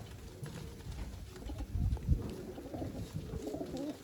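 Domestic pigeons coo softly and repeatedly in a loft, low throaty calls overlapping at a faint level, mixed with light shuffling and a couple of soft thumps.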